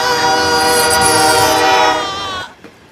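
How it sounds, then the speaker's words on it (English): A loud, sustained train horn blares close by at a railway crossing, heard from a truck, holding steady before cutting off abruptly near the end. "Is that a train?"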